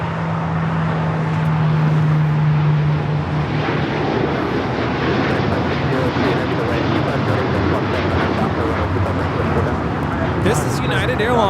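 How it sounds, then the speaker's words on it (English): A United Airlines Boeing 787-9 Dreamliner takes off from Los Angeles airport as a loud, broad jet roar that swells and stays strong throughout, with people talking in the background. "This is United Airlines 198 taking off to Shanghai on the 787-9 Dreamliner."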